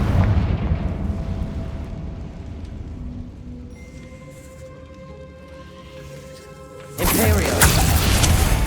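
A Confringo fire spell in Hogwarts Legacy landing as a sudden loud explosive burst near the end, after a stretch of quieter rumbling and tonal battle ambience.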